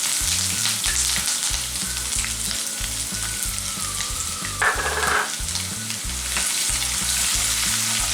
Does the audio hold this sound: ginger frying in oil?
yes